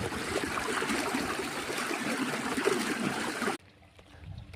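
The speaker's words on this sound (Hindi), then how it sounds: "पानी चालू कर आया सी" Irrigation water runs steadily through a cumin field, a broad continuous rushing and trickling flow that stays loud and even, then drops away abruptly near the end, leaving only faint low background.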